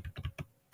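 A few quick keystrokes on a computer keyboard while typing a search, light close clicks in a short burst followed by a pause and one more tap.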